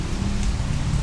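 Heavy rain pours in a steady, dense hiss that fills the whole moment without a break, loud and close, with no voices.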